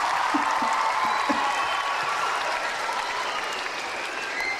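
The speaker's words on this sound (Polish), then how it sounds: "Przy okazji od razu brawa dla pana Andrzeja Marzeryckiego" A concert audience at a charity event breaks into applause, a thick, sustained roar of many clapping hands that stays even throughout, with faint voices beneath.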